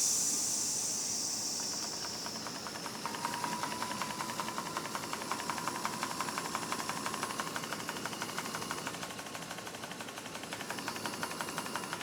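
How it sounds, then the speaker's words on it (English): A PM Research model steam plant lets off its relief valve in a continuous, fairly faint hiss with a faster ticking beneath it, as from the running engine, over a background hum. "We have our relief valve going off right now."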